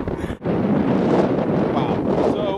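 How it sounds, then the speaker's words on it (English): Strong outdoor wind buffets the microphone in a continuous, loud rumbling roar, briefly interrupted by a quick dip before resuming. "Wow, so it's still really windy out."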